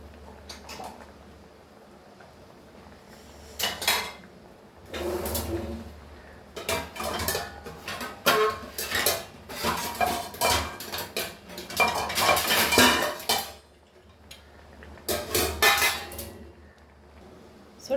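Metal clinks and clatters from a pot of Goan pomfret curry with kokum and tepal as it is stirred and covered, in scattered bursts of clanking separated by quiet gaps.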